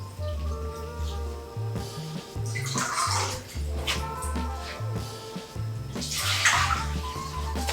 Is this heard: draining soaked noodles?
yes